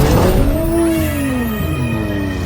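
Cartoon monster trucks race past with loud, close engine roars and a sliding pitch sweep as a vehicle passes, the revving sustained throughout with a continuous dense motor drone.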